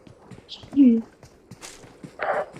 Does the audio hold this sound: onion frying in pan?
no